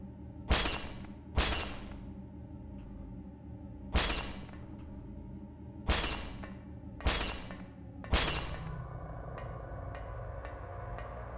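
Glass shatters repeatedly in the Silent Hill video game inside Alchemilla Hospital, five or six sharp crashes spaced a second or two apart, each ringing out over a low hum, followed by faint tinkling.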